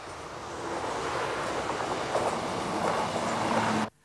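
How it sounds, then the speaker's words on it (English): A British Rail Sprinter diesel passenger train departs, rumbling steadily close by in North Wales, a broad continuous roar with faint rhythmic clatter, before cutting off abruptly. "the BR Sprinter sets off again, leaving the resorts of Tawyn behind"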